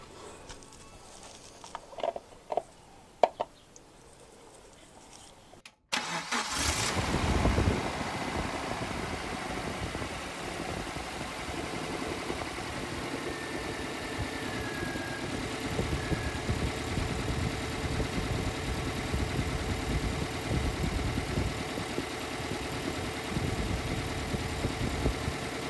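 Suzuki Jimny engine after an oil change, a few quiet clicks and knocks before the starter cranks and it catches, then settles into a steady, even idle close by.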